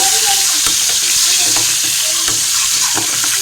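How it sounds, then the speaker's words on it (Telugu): Eggs dropped into hot oil in a home kitchen pan while cooking an okra gravy curry, giving a steady close sizzle with scattered clinks of a spatula stirring throughout. "ఆయిల్ హీట్ అయిన తర్వాత ఎగ్స్ అయితే వేసుకున్నా."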